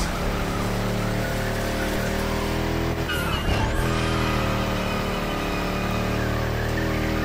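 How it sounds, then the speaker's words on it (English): A Volkswagen Touareg drifts in The Crew Motorfest, its engine roaring loudly and continuously while tires squeal and skid through a slide around the midpoint, all beneath constant game music. "Drift wasn't that bad"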